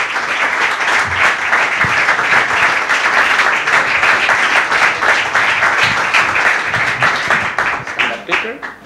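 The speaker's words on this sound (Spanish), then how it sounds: "os pido un fortísimo aplauso para Rainer Zitelmann" Loud, dense audience applause fills a book presentation event in Madrid as the guest author is welcomed, sustained throughout and thinning slightly at the end.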